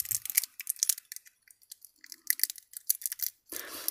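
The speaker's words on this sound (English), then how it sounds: "It's got the classic transformer tape on it, which I've just made a mess of stripping off." Crinkly tearing and crunching of transformer tape being stripped off the driver board of a fake UVC germicidal LED lamp, coming in short irregular bursts close by with brief pauses between.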